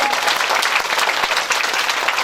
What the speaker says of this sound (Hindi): वो श्री पिंकी राणा जी, कुमारी पिंकी राणा जी, इनके लिए एक बार जोरदार तालियां।